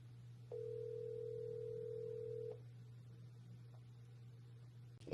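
A phone call goes unanswered: a steady ringback tone sounds for about two seconds, clear and tonal over a constant low hum, then gives way to quiet line noise with a faint click at the end.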